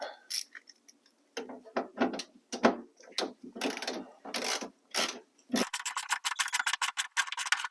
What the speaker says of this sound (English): I'm just using a 10mm socket and an extension and a 1/4 inch ratchet